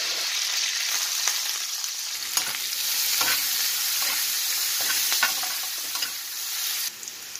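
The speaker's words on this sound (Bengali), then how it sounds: "পেঁয়াজটা ভাজা হয়ে গেল।" Chopped onion fries in a pan with mustard seeds, slit green chillies and curry leaves, giving a steady, bright sizzle with the occasional clink and scrape of stirring close by.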